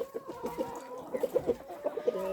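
Backyard chickens cluck in quick, close pecking bursts, a steady run of short clucks and murmurs with no talking.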